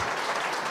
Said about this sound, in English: Give them a big round of applause and a warm Albuquerque welcome.